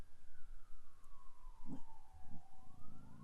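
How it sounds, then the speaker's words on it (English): A faint siren wails far away, its pitch sliding slowly down and then back up over a low background rumble, heard outdoors beside a fire. "got sirens off in the distance."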